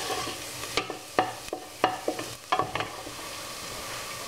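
Sauce ingredients for beef and pork meatballs cooking in a pan, a soft sizzle under a series of sharp spoon scrapes and knocks against the pan, then quieter simmering.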